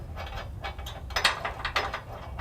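Ratcheting clicks as a lock nut is tightened onto a trailer hitch bolt on a 2005 Ford F-150, a quick close run of metallic pawl ticks growing louder toward the end.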